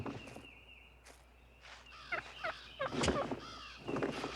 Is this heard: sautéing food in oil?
no